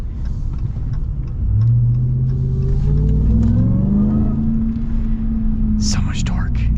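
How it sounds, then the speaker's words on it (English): A Ram TRX with a Hellcat engine revving, a deep loud rumbling engine that climbs in pitch, holds and eases back, with faint whispery sounds near the end. "Listen to that Hellcat."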